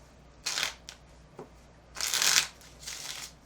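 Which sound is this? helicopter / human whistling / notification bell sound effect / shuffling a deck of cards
shuffling a deck of cards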